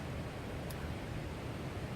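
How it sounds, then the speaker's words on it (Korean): Mountain stream water rushing steadily through a valley beside a campsite deck in Sinbulsan Natural Recreation Forest, Ulsan, with a waterfall nearby; a dense, even roar of flowing water fills the scene, close and continuous with no voices. "계곡에 물 흘러가는 소리야."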